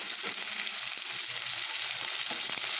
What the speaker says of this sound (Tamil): சேர்த்துட்டு இந்த வெஜிடபிளோட நல்லா வதக்கலாம்.